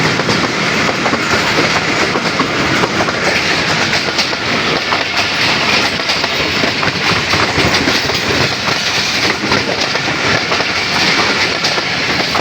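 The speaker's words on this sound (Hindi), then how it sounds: "क्वाट एक्सप्रेस रावलपिंडी से चलती है ZCU 6405 चाइना लोकोमोटिव के साथ लीड करते हुए जा रही" The Kohat Express from Rawalpindi passing close by, led by a Chinese ZCU 6405 locomotive, a loud continuous roar of wheels with a steady clickety-clack that holds for the whole stretch.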